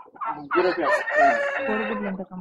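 Several male turkeys calling and gobbling loudly and close on a turkey farm, overlapping harsh cries with no talking.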